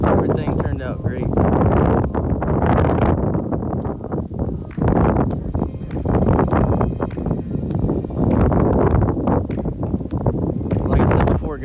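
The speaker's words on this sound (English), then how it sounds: "let me get out of the wind" Gusty wind buffets the microphone on top of a metal roof after soft washing, a loud continuous roar with rustling surges throughout.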